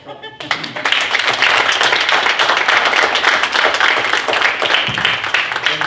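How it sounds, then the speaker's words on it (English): Audience at a fintech leaders event clapping in thanks to a speaker, a dense burst of applause that starts sharply after a moment of talk and stays loud and sustained. "first a clap"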